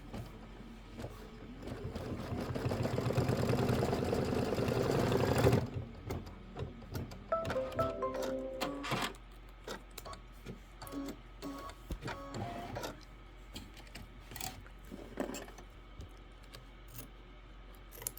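An embroidery machine stitches an appliqué quilt block rapidly with a dense mechanical whir for several seconds, then stops, followed by scattered clicks and short mechanical movements.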